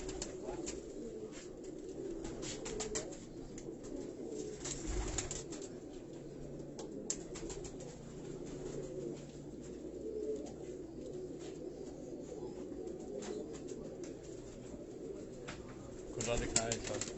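Teddy breed pigeons coo softly in a loft in Karachi, low repeated murmurs scattered under someone talking, with occasional rustles and light bumps.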